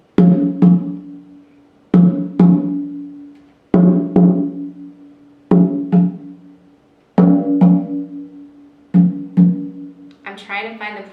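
A hand drum is struck in paired beats, a soft double thump repeated six times at a slow, even pace like a heartbeat, each pair ringing out and fading before the next, with a brief rattle at the end.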